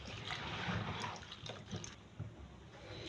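Liquid from a palm nut (banga) soup base pours and trickles as it drains. The flow is close, continuous and splashy, and eases off slightly toward the end.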